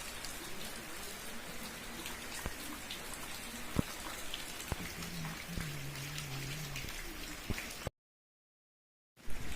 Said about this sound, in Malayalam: മഴയാണ്, പുറത്തൊക്കെ നല്ല മഴയാണ് കേട്ടോ